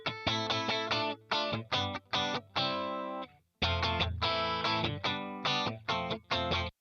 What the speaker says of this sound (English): this was actually my Strat through an HX Stomp,